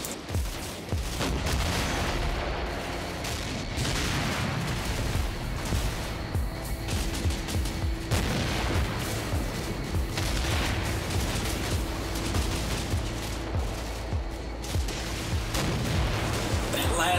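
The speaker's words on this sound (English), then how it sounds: "Explosion is a German Panzerfaust." A German Panzerfaust explodes in a World War II tank battle video game, with booming blasts and bursts of gunfire rolling through a dense, continuous din of battle noise and scattered voices.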